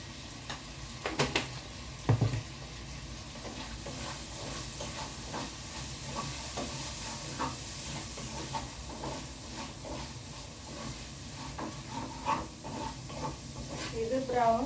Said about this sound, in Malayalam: ഇനി നമുക്ക് സവോള ഇട്ട് കൊടുക്കാം.